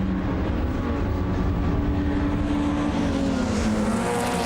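Minis racing in the Super Mini Challenge at Manfield, a loud continuous engine roar with shifting whining tones as cars run close together, steady throughout without audible commentary.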